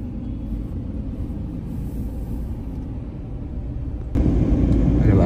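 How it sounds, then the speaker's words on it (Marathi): Steady road traffic rumbles throughout, with many vehicles passing in a continuous low wash that swells louder near the end as a closer vehicle goes by. "बाकी नुसत्या गाड्या गाड्या गाड्या"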